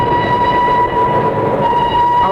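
Radio-drama train effect: a steady rumbling, clattering run of rail cars with a sustained horn-like tone riding on top, loud and close, with no voices.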